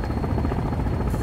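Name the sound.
helicopter in a video game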